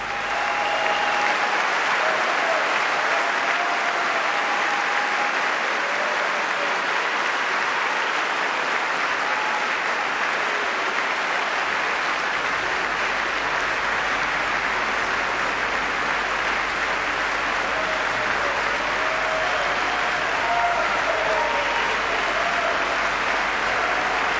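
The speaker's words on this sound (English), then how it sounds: "of course, all the applause" Sustained applause fills the chamber of the US House as Michelle Obama, the First Lady, enters before the State of the Union address, a steady dense roar of clapping lasting throughout with no break.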